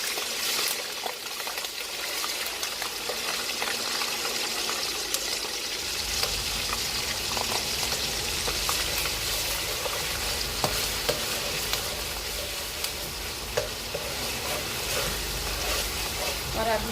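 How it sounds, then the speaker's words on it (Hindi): Garlic ginger paste fries loudly in a hot pan for a Pakistani Balochi karahi, a steady dense sizzle with occasional stirring scrapes, continuous and close. "अब जो है मैं इसमें 1 चम्मच भर के ये लहसुन अदरक का पेस्ट शामिल कर रही हूँ।"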